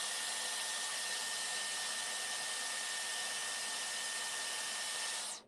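A hair dryer runs on its cold shot setting while styling hair, giving a loud, steady, close airy whoosh with a faint tonal whine that holds for about five seconds and then cuts off.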